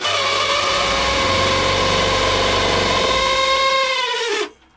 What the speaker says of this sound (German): Der Motor hört sich aber leider immer noch nicht gut an.